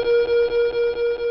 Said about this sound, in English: abandon alarm,